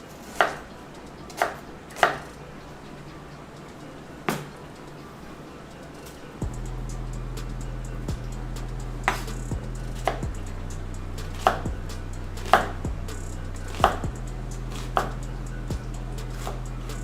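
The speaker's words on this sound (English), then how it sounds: "I'm gonna go on ahead and just start chopping these up" A knife chops ingredients for Cuban mojo on a cutting board, giving sharp, close, irregular knocks spaced a second or so apart. Partway through, a steady low hum starts and continues underneath the chopping.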